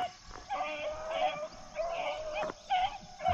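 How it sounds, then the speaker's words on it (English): A seven-month-old hunting puppy bays and yelps in a short repeated series of rising cries while running a rabbit track outdoors, heard at a moderate distance. "I done seen it 2 or 3 times barking on that track"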